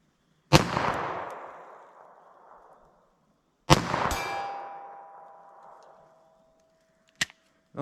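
Two sharp .22 LR pistol shots with CCI Uppercut rounds, each followed by a long ringing clang from a metal target 75 yards off, then a brief mechanical click near the end.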